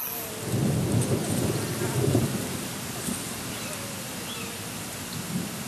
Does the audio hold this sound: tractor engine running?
no